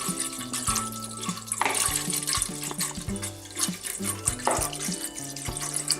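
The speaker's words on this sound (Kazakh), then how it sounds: "Ал енді міне сүтімізді қосамыз." Milk poured into a pot for homemade yogurt, a steady liquid splash and gurgle with changing tones as the vessel fills, close and fairly quiet.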